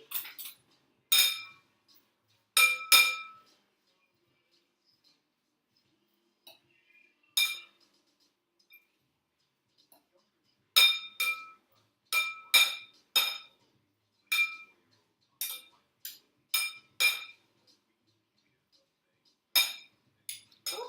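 Carrot salad being tossed with sauce in a bowl, giving sharp utensil-on-bowl clinks in short scattered bursts with quiet gaps, close and clear with no talking.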